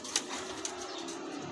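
Racing pigeons coo softly in the background as they arrive at the loft, with a couple of brief sharp clicks, quiet and steady, no voices.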